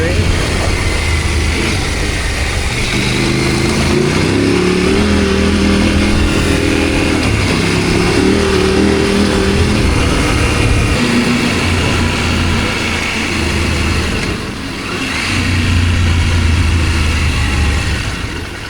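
Off-road motorcycles on rough trail terrain on a Trans Morocco ride, engines droning and revving steadily close by for the whole stretch, with a voice talking over the engine noise.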